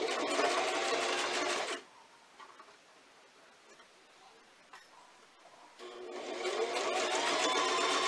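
Sewing machine stitching back over an existing seam on a fabric mask, two close bursts of rapid humming whir separated by a quiet pause of a few seconds.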